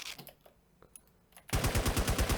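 Rapid automatic gunfire in a GTA roleplay video game, a loud burst of evenly spaced shots that starts abruptly after a short stretch of quieter clicks and thumps and continues to the end.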